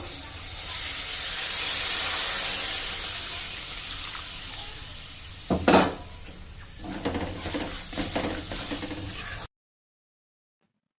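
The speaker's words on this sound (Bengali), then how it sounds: "আর ওর মধ্যে একটু জল দিয়ে দেবো" Water poured into a hot pan for Bengali rui fish biryani: a rising hiss and gush that breaks into a sharp sizzling burst, followed by softer bubbling and stirring clatter before the sound cuts off.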